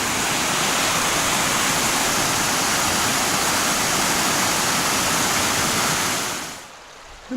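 Creek water cascading down a small gorge on a mountain trail, a steady loud rushing roar that holds for several seconds, then drops off abruptly near the end.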